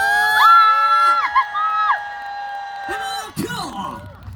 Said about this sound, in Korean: 여러분의 함성과 박수 주세요